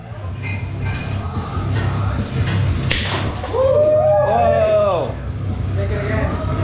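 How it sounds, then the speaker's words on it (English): A borosilicate Pyrex glass dish is hurled against a wall, giving one sharp, loud crack-like impact partway through, surrounded by excited voices and shouting. "Pyrex wall throw."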